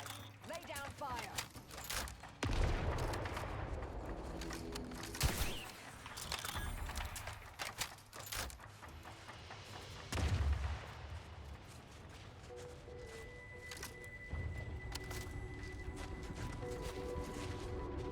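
Gunfire in the video game The Outer Worlds 2: loud bursts of shots and heavy booming blasts over a steady battle din, with voices talking over the fighting.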